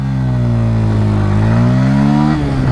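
A 2024 Bajaj Pulsar N150 single-disc motorcycle pulls away in first gear with a loud, close, continuous engine drone whose pitch climbs steadily as it revs, then dips slightly near the end.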